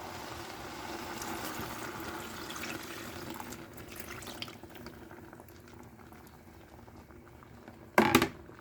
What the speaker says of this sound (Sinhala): වතුර එකතු කරාම මම මේක ලිපෙන් තියලා මේක තැම්බෙන්න තියෙනවා.